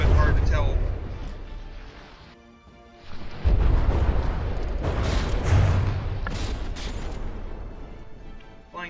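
Naval guns on a ship in From the Depths fire artillery shells, heavy booms and rumbling blasts rolling under continuous commentary.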